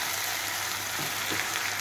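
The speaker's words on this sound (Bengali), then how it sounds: "সিম আলু ভাজি বসিয়েছি" Broad beans and potatoes frying in a pan give a steady, close sizzle with a continuous crackling hiss that runs the whole way through and never fades.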